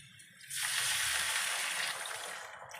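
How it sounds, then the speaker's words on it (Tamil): Water poured into a pan while cooking a broad bean (avarakkai) stir-fry with salt, a steady broadband gush of nearly three seconds that starts abruptly and stays fairly loud before easing slightly at the end. "தண்ணி ஊற்றிடலாம்."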